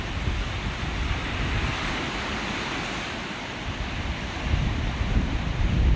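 Large ocean waves crash and surge at Estero Bluffs on the coast, a loud, continuous roar of surf mixed with wind buffeting the microphone, swelling slightly toward the end.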